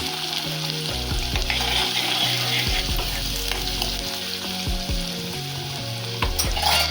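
Chopped onion frying in a pan for a colocasia (arbi leaf knot) curry, a steady close sizzle with scraping stir strokes and low rumbling clatter throughout, no voices.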